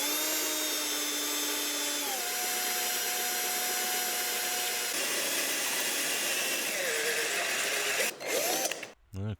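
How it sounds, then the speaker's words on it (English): A 1 1/4 inch hole saw on a power drill cuts through PVC pipe while building a bird feeder, giving a steady, loud whirring grind with a pitch drop partway through and a brief stop near the end. "I am using the larger hole saw this time"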